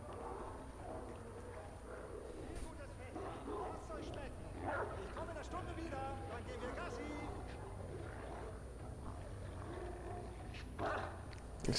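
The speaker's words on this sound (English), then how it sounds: "Feeding people to dogs." Dogs bark, yip and whimper in the video game Wolfenstein: The Old Blood, a steady clamour of several animals mixed with game noise and a voice talking throughout.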